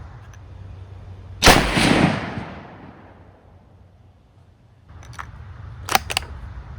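A Ruger American Compact .308 rifle fires a loud sharp shot that rings out and decays over about a second, followed by fainter clicks and clatter of handling or cycling the action.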